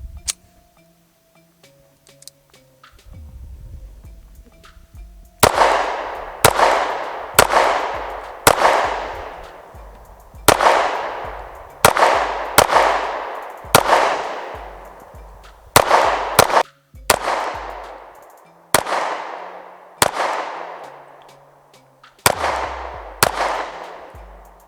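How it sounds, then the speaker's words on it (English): A Sig Sauer P229 Platinum Elite .40 caliber pistol fires about fifteen sharp, loud shots, each followed by a ringing decay. The shots come in irregular bursts on an outdoor range after a short quiet lead-in. "got the P229 Platinum Elite series, and I'm gonna put some rounds down range."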